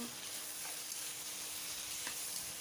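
Squid stir-fried with basil, oyster sauce and fish sauce sizzles steadily and loudly in a hot pan, with faint stirring scrapes in the near, continuous frying noise.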